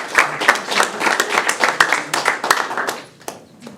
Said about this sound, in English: Okay, clap it up for Nathan.